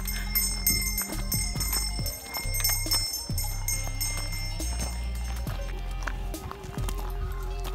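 Horses with bells walk along a trail in the Alpine mountains, their bells ringing repeatedly in irregular jangles over steady hoof clops, close and fairly loud against outdoor background noise.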